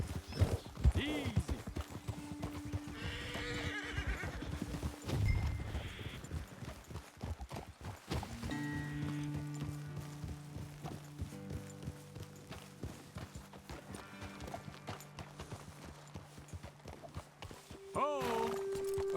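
Rhythmic hoof clip-clops of horses moving at a steady pace in Red Dead Redemption 2, under game music and occasional talk, with a brief whinny-like sound near the end.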